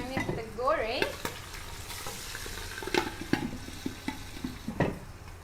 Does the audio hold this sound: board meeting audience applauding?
no